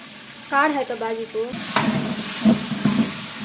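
Whole spices such as shahi jeera, cinnamon, cloves, cardamom, star anise and mace frying in a pan, with a soft sizzle and several stirring clatters after a brief vocal sound.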